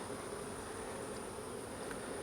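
Honeybees buzzing in an open hive during a hive merge, a dense continuous hum at low level with no talk, steady throughout.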